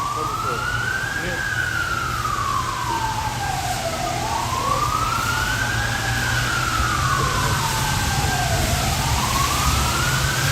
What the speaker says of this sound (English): every camp you always hear sirens